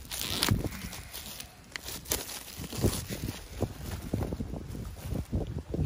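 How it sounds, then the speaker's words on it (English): Gusty wind buffets the microphone outdoors, a steady rumbling roar with louder blasts, no talking. "A little bit windy out here today."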